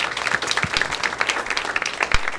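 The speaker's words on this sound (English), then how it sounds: "Please give a round of applause for Mr. Martinez, Danny Martinez" A comedy show audience applauds loudly with dense, steady clapping that fills the entire short stretch.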